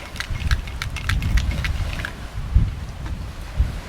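A cocktail shaker holding an apple brandy drink with lemon is shaken hard and close, giving a quick rhythmic run of bright rattling clatters over a rough rumble.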